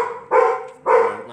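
A dog barks twice, loud and close, each bark a short sharp burst with a brief gap between them.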